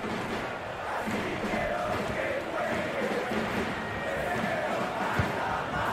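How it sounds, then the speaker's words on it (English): Steady stadium crowd roar from the FIFA 22 football game, a dense chanting, cheering mass of voices holding a constant level throughout with no pauses. "Well, just listen to this crowd."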